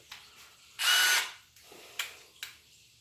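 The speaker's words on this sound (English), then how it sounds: "12-volt max screwdriver." DeWalt Xtreme 12-volt max cordless screwdriver gives one loud burst of motor whirring lasting about half a second, followed by a few short clicks and brief taps, close by with no voices.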